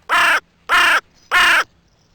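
Birds often mistaken for ravens call three times in an even rhythm, each loud harsh caw clearly separated by short silences, alone with no voices, recorded outdoors in a nature reserve.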